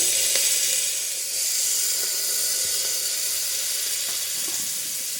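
Green chillies, coriander, curry leaves and onions frying in a hot oil tempering for munaga puvvu pappu, a steady loud sizzling hiss close by with faint stirring ticks, no talking.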